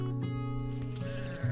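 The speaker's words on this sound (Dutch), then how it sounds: "Hé, en daar al je skiep." A sheep bleats in a long, wavering, nasal call that holds steady for over a second, fairly close and clear against a faint background.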